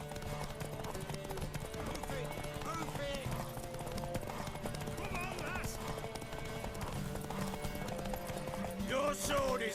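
Horse hooves clip-clop steadily while a horse whinnies in the video game The Witcher 3: Wild Hunt, under ongoing talking voices and background music.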